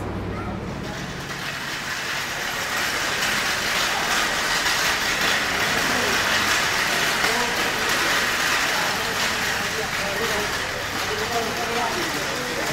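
A Sonar Bangla Express locomotive idles at Kamalapur Railway Station in Dhaka, giving off a steady, broad diesel rumble that holds throughout, with station chatter and voices around it.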